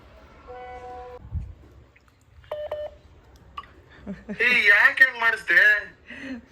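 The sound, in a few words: phone call ringing tone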